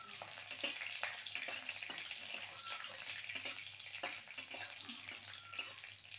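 Whole spices with green and dried red chillies crackle in hot oil for a tempering, a moderate, continuous sizzle with occasional small pops and light stirring, heard close without speech.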